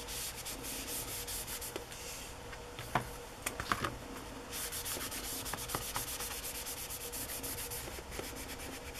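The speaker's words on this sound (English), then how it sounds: "I don't want to rub too hard, but I do want to get some of the surface dirt off" Someone rubs surface dirt off the paper cover of an old 1950s book, a soft, steady, close scrubbing rasp with a few brief louder scuffs and taps.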